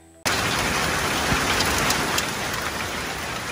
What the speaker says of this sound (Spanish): Caía una lluvia torrencial